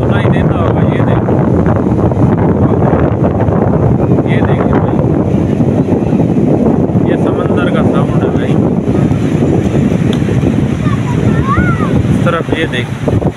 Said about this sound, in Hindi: समंदर का साउंड तो आपको सुनाई देता होगा